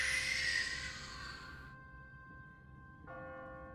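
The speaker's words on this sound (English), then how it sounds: "What kind of church bell goes off at 20 past the hour?" An automatic church bell rings in Telltale's The Walking Dead, a loud bright toll that decays into a long hum, then a second softer strike follows. No one speaks.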